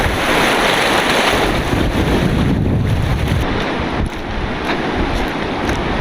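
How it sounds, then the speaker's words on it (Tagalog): A strong current rushes at a mountain river crossing in the Cordillera, a loud, continuous churning roar of water mixed with gusty wind buffeting the microphone, no voices. "malakas ang agos na tinawid namin"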